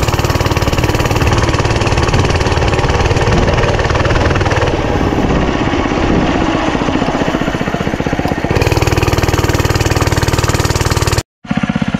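An Oryx Earth 125cc mini bike engine idles with a loud, steady, close-up buzzing drone, go-kart-like, running continuously and cutting out for a split second near the end.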